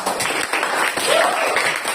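Students in a classroom clap together in a dense, continuous burst that sounds close and fairly loud, with a faint voice briefly mixed in.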